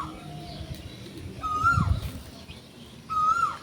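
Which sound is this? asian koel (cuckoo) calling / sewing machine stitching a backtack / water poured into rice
asian koel (cuckoo) calling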